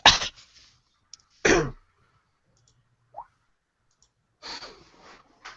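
Two short, harsh coughs close by, separated by quiet, followed by softer breathy bursts.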